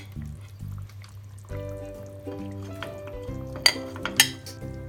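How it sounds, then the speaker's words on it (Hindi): Potatoes tipped into a cooking pot for Punjabi-style dum aloo, heard as soft thuds and clattering against the metal pot, with a few sharp clinks of a utensil near the end, quiet and close with no talk. "अब इसमें मैं आलू डाल देती हूँ।"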